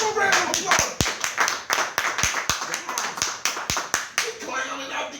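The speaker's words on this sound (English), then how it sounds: "Give him a round of applause." A small group claps in quick, uneven bursts for several seconds, sharp close hand claps with lively voices chattering over them.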